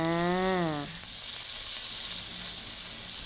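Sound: thin pork slices sizzling while grilled

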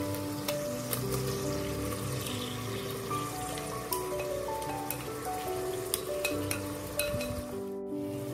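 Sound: marinated paneer sautéing in pan

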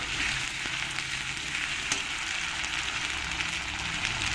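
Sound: onions frying with ginger garlic paste being stirred in

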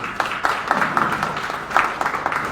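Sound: audience applause at book publication festival

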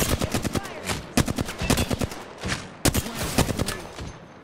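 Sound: gunfire in a video game

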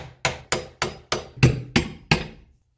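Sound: hammer and flathead screwdriver knocking out door hinge pin

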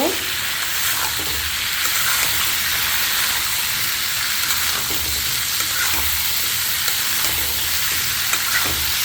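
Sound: stirring vegetables into frying spice paste

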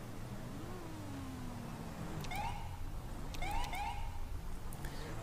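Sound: police car siren in video game GTA 5 LSPDFR

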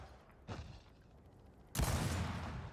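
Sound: gunfire in Gears of War 4 multiplayer video game

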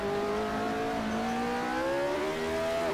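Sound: McLaren M23 engine at full throttle, Assetto Corsa video game

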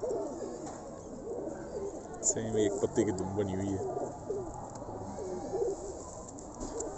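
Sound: blue Kamgar pigeons cooing

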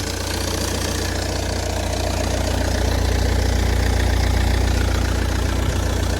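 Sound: Volvo C30 engine idling with noisy alternator belt

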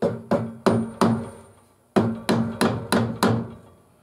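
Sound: hammer tapping glued coffee tamper

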